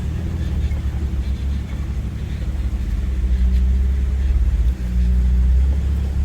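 A Jeep engine rumbles low and steady while the vehicle crawls over rocky obstacles on a Rocky Mountains overlanding trail, the drone swelling slightly toward the end with faint speech beneath.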